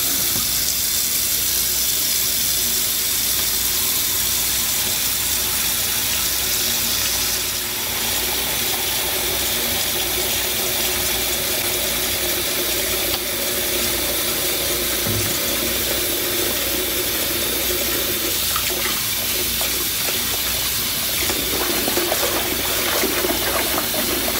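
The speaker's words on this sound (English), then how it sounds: "I'm gonna fill up my sink with sort of cool, warm-ish water" Tap water runs steadily into a bathroom sink filling with cool, warm-ish water, a continuous hissing rush that holds for the whole stretch with small shifts in tone and no talking.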